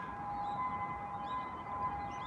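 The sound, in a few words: ambulance siren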